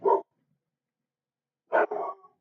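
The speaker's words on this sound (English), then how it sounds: "Sorry about the dogs, guys." Dogs bark in two separate bursts, a brief bark at the start and a double bark about a second and a half later, fairly faint with silence between.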